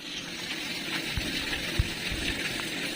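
Muddy rainwater running through a filter into a village borewell, a steady broadband rush and gurgle of flowing water with a few soft knocks, continuous and fairly close.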